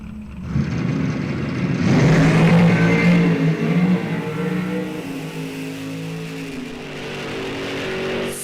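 A drag race car making an eighth-mile heads-up pass fires up and roars hard for several seconds, then its loud engine note fades as it pulls away into the distance, with no talking.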